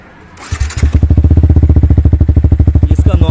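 A Yamaha R15M motorcycle with its standard exhaust fires up and settles into a steady, loud idle, a close and even rhythmic putter with no one speaking.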